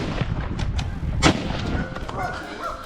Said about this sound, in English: Rapid gunshots echoed, and the animal collapsed under the hand of the professional hunter